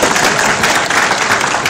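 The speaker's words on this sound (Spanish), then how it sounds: "Fuerte el aplauso para Cristian." An audience at a keynote lecture gives loud applause for Cristian, a volunteer called up front: a continuous wash of many hands clapping close and strong through the whole short stretch.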